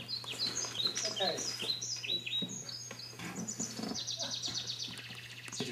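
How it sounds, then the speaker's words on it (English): Bird chirping as a radio drama effect for an early morning in a quiet Tokyo suburb, with bright overlapping tweets and trills at moderate volume and a steady low hum underneath. "The birds are chirping."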